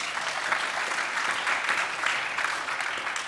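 Audience at a city council meeting claps steadily throughout, a dense even wash of applause filling the room, with no voices standing out.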